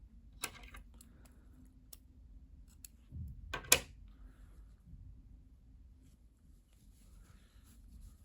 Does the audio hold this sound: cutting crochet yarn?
yes